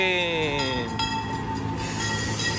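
A theme park train rolls past nearby, with a steady rumble of wheels on track and drifting, squealing metallic tones.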